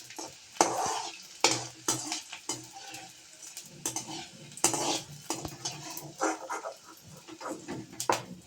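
Edible gum (gond) fried and stirred in a thick-bottomed pan for Yugadi antina unde, giving a steady sizzle with repeated scraping and clinking stirs, close and fairly loud with no talk.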